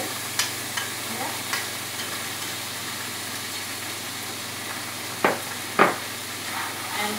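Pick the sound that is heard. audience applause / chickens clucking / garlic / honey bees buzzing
garlic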